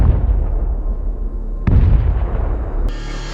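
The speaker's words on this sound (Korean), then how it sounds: "그때 폭발 소리가 들리기 시작하더니 사람들이 내부로 진입하기 시작합니다." Explosions in a Purge film scene: a sustained rumbling roar, then a sharp loud blast near the middle and another bright burst at the end, heavy and close.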